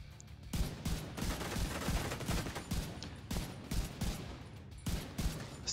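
A turret in The Division 2 fires in sustained, dense bursts, a rolling rattle of rapid gunfire with brief breaks between volleys, fairly distant and muffled.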